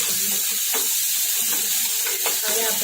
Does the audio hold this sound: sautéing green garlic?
yes